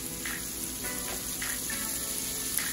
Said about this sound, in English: when it turns brown, we can add the bacon. The one that I use is the turkey bacon